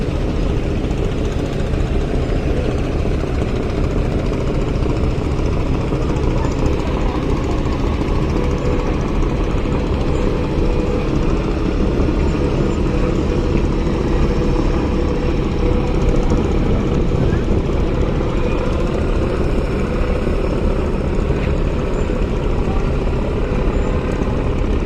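Engines of passenger launch boats on a Bangladeshi river, several vessels arriving together: a steady, loud, unbroken low drone that holds evenly throughout.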